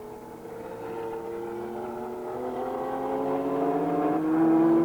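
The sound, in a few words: Porsche race car in BPR series race at Francorchamps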